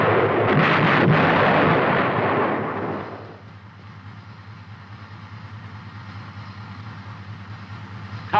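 M551 Sheridan light tank gun firing, a heavy broadband blast that booms and rolls for about three seconds before decaying into a lower rumbling background with no voices.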